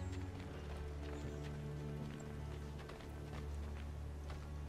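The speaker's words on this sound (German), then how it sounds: "suchen wir uns ein Pferd und dann ab" Horse hooves clip-clop at a steady trot in the video game Assassin's Creed II, a continuous rhythmic clatter under a dense, humming game soundscape.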